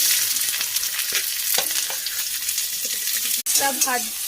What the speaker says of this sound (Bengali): দেখো পেঁয়াজটা একটু ভেজে ভেজে নিচ্ছি